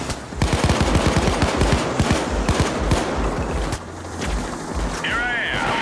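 Gunfire in the PAYDAY 2 co-op heist Mallcrasher crackles in rapid, loud bursts of shots that thin out toward the end, with a player's voice talking over the action.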